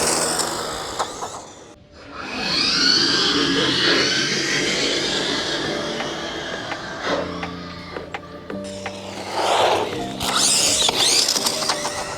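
A Rlaarlo Omni-Terminator carbon fiber RC car drives nearby, its motor whining and rising in pitch through the run, with mechanical rattles, clicks and brief tonal pulses between bursts, loud and close with no speech.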